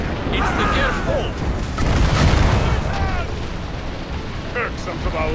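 Naval cannons fire during a ship battle in Assassin's Creed Rogue, heavy booms blending into a dense, continuous roar of wind, water and battle noise, with voices shouting over it.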